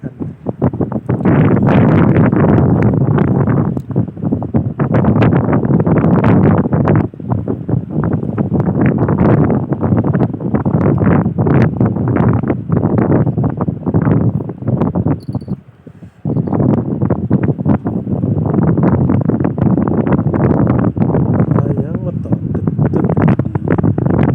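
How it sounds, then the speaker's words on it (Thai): Strong wind buffeting the microphone while fishing from the bank of the Mekong river, loud gusty roaring in long bursts with a brief lull midway and a voice speaking under it. "ลมแรงขนาดเลย"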